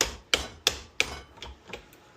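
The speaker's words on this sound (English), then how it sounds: "Now I need to hammer this back off here." Hammer blows knocking a fork cap off a Honda CRF230F/CRF250F fork during a fork seal service, four sharp metallic strikes at a steady beat followed by a few lighter, fading taps.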